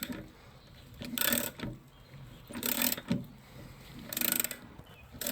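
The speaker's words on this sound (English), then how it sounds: "I have put the 15/16, and I'm now turning this other side, the bolt side." Wrench or ratchet turning the bolt of a rear shock on a 2011-2020 Dodge Durango, three bursts of close metallic ratcheting clicks separated by quieter pauses, no talking.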